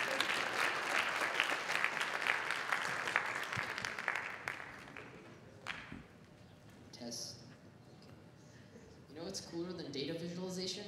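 An audience at a closing ceremony applauds a team called to the stage, a burst of clapping that fades after about four seconds, followed by scattered sounds and people talking.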